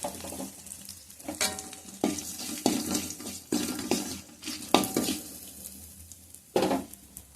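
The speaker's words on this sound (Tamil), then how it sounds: "அரைச்சி வச்சுருக்க மிளகு, சீரகம், காஞ்ச மிளகாய் அந்த பவுடரையும் இதுள்ளே போட்டுக்கிறேன்" Ground pepper, cumin and dried chili powder sizzle in a home kitchen pan, with a soft frying hiss under a series of scraping stirs and clinks at irregular intervals.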